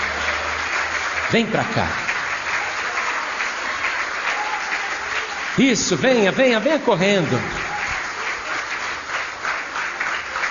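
Congregation clapping in a Brazilian church service, a steady moderate applause running throughout while a preacher calls out twice over it with a strongly inflected voice.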